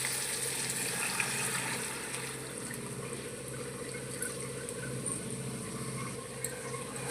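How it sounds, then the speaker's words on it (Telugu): Water is poured into a pot of mutton curry over onions fried in oil, giving a steady splashing, trickling flow that runs continuously for several seconds, close and moderately loud with no talking. "ఇప్పుడు ఇందులో వాటర్ వేసుకుంటాం."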